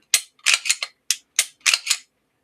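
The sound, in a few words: Glock 45 Gen 6 pistol slide cycling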